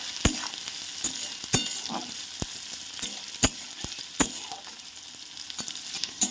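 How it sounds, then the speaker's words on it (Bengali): Onion fries in an oil tempering for a soybean and potato curry: a soft continuous sizzle punctuated by sharp, regular clacks of a utensil stirring against the pan. "এবার পেঁয়াজটাকে ভালো করে ভেজে নিতে হবে"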